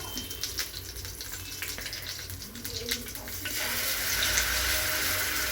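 Marinated fish frying on a tawa with curry leaves, a steady sizzle that swells louder and brighter about halfway through as more goes into the pan, with faint clinks over the crackle.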